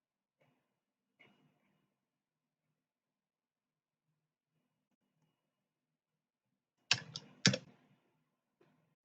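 Typing on a computer keyboard, a few soft scattered keystrokes then two louder close bursts of rapid clicks, with near-silence between.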